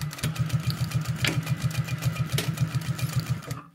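A sewing machine stitches a zipped box pouch in a fast, even run of close mechanical needle beats, briefly stopping near the end.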